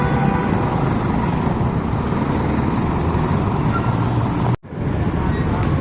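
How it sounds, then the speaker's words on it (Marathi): Dense road traffic at a Pune intersection makes a steady, loud roar of car, truck and bus engines and tyres, broken only by a brief dropout near the end. "ट्रॅफिक आहे"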